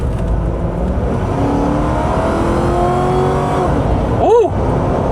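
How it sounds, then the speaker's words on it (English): An old Ford police car cruising along, its transmission whine rising and falling in thin tonal sweeps above steady road and engine rumble, close and continuous, with a short sharp chirp near the end. "I love the sound of these old Ford transmissions."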